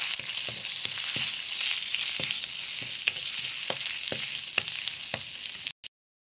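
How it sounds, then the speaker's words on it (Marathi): Turmeric and a spoon of chili powder sauté in hot oil in a pan for a Malvani raw mango curry: a continuous loud sizzle punctuated by regular spatula scrapes, stopping abruptly at the end. "त्याच्यामध्ये आपण हळद टाकू। तिखट 1 चमच, चांगलं परतून घ्यायला पाहिजे।"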